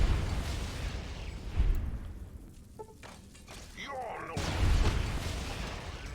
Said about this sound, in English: I haven't used a plasma grenade in a long time.